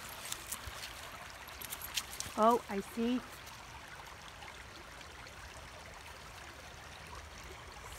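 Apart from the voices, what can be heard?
fast-flowing stream water after heavy rain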